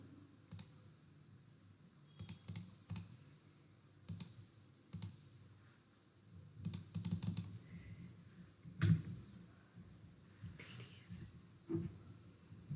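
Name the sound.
computer keyboard shortcut keys being pressed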